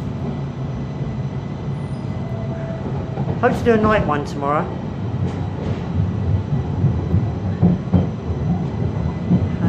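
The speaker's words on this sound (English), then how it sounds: "We're getting a snow train." Steady rumble of a train ride in snowy weather fills the clip, a continuous low mechanical drone with faint rail clatter, while a person talks over it and briefly near the middle.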